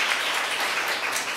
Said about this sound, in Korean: 다시 한번 따뜻한 박수 좀 부탁드립니다.